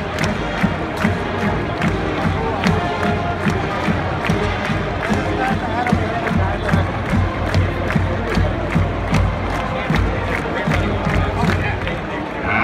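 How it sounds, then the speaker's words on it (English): Large stadium crowd at Michigan Stadium during a Michigan versus Maryland football game, a dense continuous roar of cheering and chanting voices with rhythmic bursts, loud and sustained throughout. "The big cheer from the big house. Everybody join in on Let's Go Blues."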